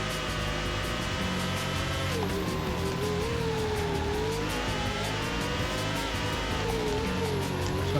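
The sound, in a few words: racing car engine in F1 World Grand Prix video game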